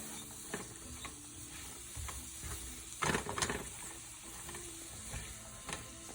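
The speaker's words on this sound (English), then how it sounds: "Okay, stir it up." Vegetables with saffron being stirred in a sizzling pan, a steady frying hiss with scraping stir strokes and a louder burst of movement midway.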